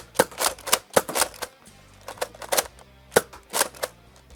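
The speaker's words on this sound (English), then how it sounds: "I'm going to prime it forward, fire dart, keep firing" A Nerf Walcom S7 blaster fires darts repeatedly, each shot a sharp snapping pop paired with the clack of priming, in uneven bursts of about ten close, crisp shots with no speech.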